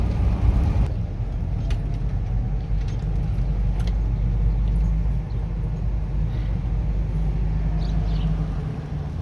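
A car drives along a road through a remote rural area, its steady low engine and tyre rumble continuous and close throughout, with faint light rattles above it and no talk.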